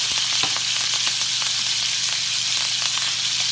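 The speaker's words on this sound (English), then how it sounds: "now we're gonna add some butter to get a nice coat of the garlic" Garlic frying in butter and olive oil gives a loud, close, continuous sizzle with a few faint pops and stirring scrapes, and no voices.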